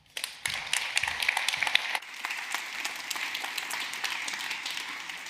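Audience applause greets a data scientist from Schibsted Media as he takes the stage, a dense burst of clapping from a large crowd that starts abruptly, peaks, then continues steadily a little softer throughout.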